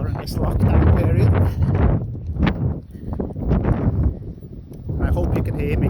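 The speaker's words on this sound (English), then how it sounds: "it's quite windy today" Strong wind gusts buffet the microphone on an Irish beach during a walk, a continuous loud low roar rising and falling throughout with brief lulls.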